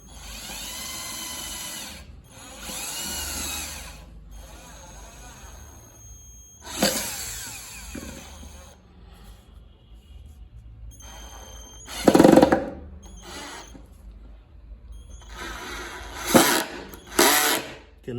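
A corded power drill, not an impact driver, whirs in several bursts separated by quiet pauses, its motor pitch rising and straining as it drives a screw, close and loud.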